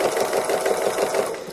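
A sewing machine running steadily during free motion embroidery shading, a continuous close, even whirring hum with a fast mechanical pulse and no pauses or talking.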